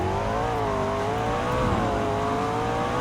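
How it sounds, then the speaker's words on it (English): A V8 street-legal sports car in a video game holds a steady, droning engine note with a slowly wavering pitch, running loud and close throughout with no talk. "listen to that V8"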